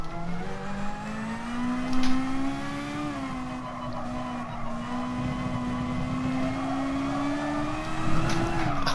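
Race car engine revving in GT Sport during an online race, a strong continuous whine rising and falling gently in pitch as the car holds speed, with a couple of short louder bumps.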